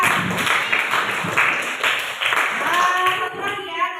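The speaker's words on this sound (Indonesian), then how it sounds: "Oke, tepuk tangan untuk Najwa." Classroom audience of students clapping for a classmate named Najwa, a dense, steady patter of many hands close by, with a few voices mixed in near the end.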